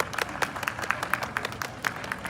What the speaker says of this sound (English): I think that deserves some applause from you all